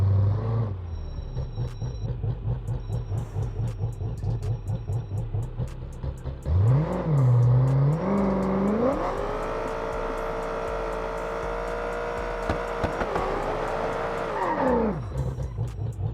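A virtual car in BeamNG Drive launching down a drag strip, loud and close: idle burbling and a revving engine give way to a surging roar that climbs through the gears, holds a strained high drone, then cuts off.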